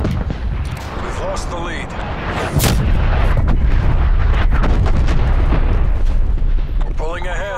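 Incoming artillery in Call of Duty Black Ops Cold War: heavy, continuous booming bombardment that swells louder partway through, with radio-style voices talking over the barrage.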